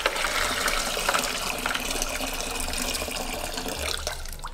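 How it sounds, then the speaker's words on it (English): Water runs steadily from a tap into a container being filled for a hand mold, a continuous close gushing and trickling with no voices. "So you're gonna fill that up with water first."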